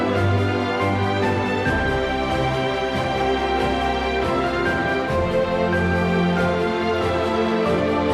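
Soundtrack music from the MapleStory Limbo area plays continuously, a dense, full arrangement with sustained melodic lines over a steady low bed, loud and alone with no talking.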